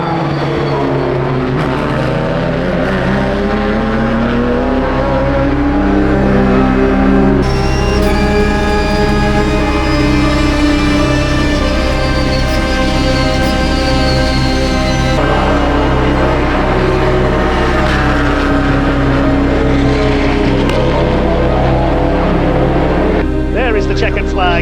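Race car engines drone loud and near at a Britcar endurance race at Silverstone circuit, with sustained tones that rise and fall in pitch as cars pass, while a voice talks over them.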